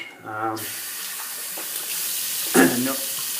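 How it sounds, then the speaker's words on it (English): Running tap water splashing as a safety razor is rinsed at a bathroom sink, a steady close hiss with a brief louder surge of splashing near the end. "just rinse off the razor here"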